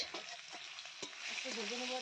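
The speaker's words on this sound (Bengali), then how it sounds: "একটু ভালো করে ভাজা করে নেব মানে লালচে লালচে করে নেব পেঁয়াজটা" Onions frying in hot oil in a wok with panch phoron, bay leaves and garlic, a dense continuous sizzle close up, broken by a few light stirring scrapes.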